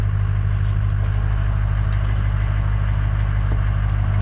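A 2003 Ford F250 with the 6.0 diesel idling smoothly, a loud, close, steady low rumble with faint clattering ticks on top and no talking.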